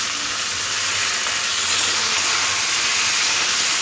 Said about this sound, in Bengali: নিয়ে তেলের মধ্যে দিয়ে খুব ভালো করে ভেজে নেব